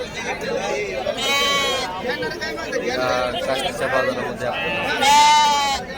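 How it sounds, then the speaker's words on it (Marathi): Sheep bleat at a crowded livestock market, a couple of loud calls rising out of busy crowd chatter and nearby voices. "आपल्याला या अशा प्रकारच्या मेंढ्या बघायला मिळतात"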